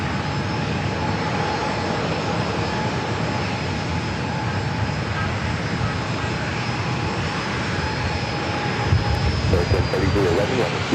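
An American Airlines jet on its takeoff roll at San Diego airport, bound for Chicago O'Hare, gives a loud, steady engine roar with a high whine, holding throughout as a voice talks over it.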